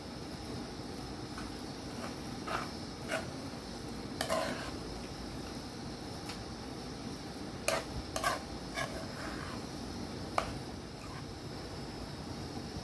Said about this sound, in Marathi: मंद गॅसवर किती छान आपलं हे बेसन शिजत आहे